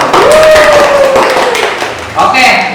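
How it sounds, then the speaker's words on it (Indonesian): A class applauds during a microteaching economics lesson, with clapping mixed with voices and a vocal tone, fairly loud and close, for a few seconds. "Tepuk tangan dulu"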